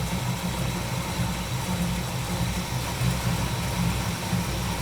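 A 1959 Pontiac engine idles low with its idle turned way down, producing a continuous, even rumble with a faint buzzing edge and no revving, close and alone.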